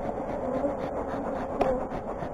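Bees buzzing around a 33-frame horizontal hive box, a low, steady hum close by with a faint click partway through and no talk.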